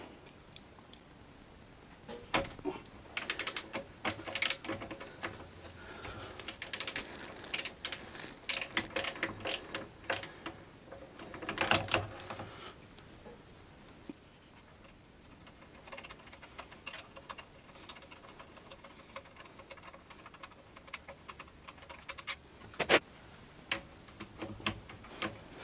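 A 14mm wrench works the rear brake caliper bolts on a Triumph Speed Triple, producing rapid close ratcheting clicks in bursts between quiet pauses.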